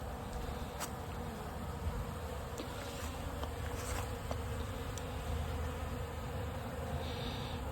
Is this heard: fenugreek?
no